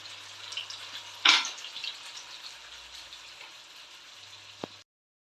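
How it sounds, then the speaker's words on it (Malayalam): Sardines fry in a pan, a faint steady sizzle with a sharp spitting burst early on and a small pop near the end before cutting to silence. "അങ്ങനെ ഞാൻ നമ്മുടെ മീനൊക്കെ പെട്ടെന്ന് വറുത്തു."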